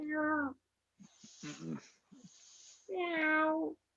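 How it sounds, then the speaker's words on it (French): Two cats meowing loudly and close by, with one long meow at the start and another at the end. Soft breathy mutters and rustling fill the gap between them. "on entend des chats"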